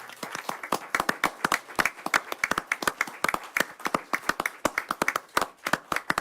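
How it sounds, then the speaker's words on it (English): Audience at a city council meeting applauding staff and public employees, distinct individual claps from a modest group in an irregular rhythm, rising and easing in small waves. "just give our staff and our public employees just a big round of applause"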